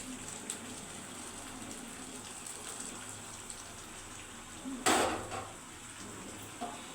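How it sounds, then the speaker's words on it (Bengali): Hot water splashes briefly into chicken cooking in a pan with apple and mango leaves, one short gushing pour near the end over a low steady background hiss. "আমি কিন্তু অল্প একটু গরম জল দিয়ে দিচ্ছি।"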